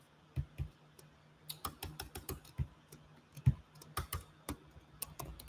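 Computer keyboard typing at close range, irregular bursts of key clicks and thuds spread across several seconds, with no talking.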